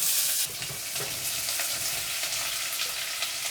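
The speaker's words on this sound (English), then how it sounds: "It's probably an ounce of oil, and it's already starting to get smoky." About an ounce of oil heating in a pan until it starts to smoke, giving a steady, close sizzle and crackle that runs without a break and stays fairly loud throughout.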